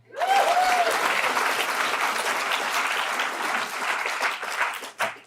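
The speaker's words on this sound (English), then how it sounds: "Big cheer out for the ABC." A gala audience at a poetry event applauds and cheers loudly and steadily for the national broadcaster's chair, a dense wall of clapping that fades out near the end.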